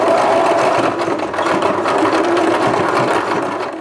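A sewing machine stitches fabric for a custom van seat cover, running continuously at steady speed with a loud, close mechanical whir and rapid rhythmic needle clatter throughout.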